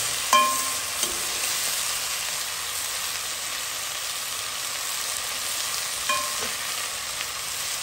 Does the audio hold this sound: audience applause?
no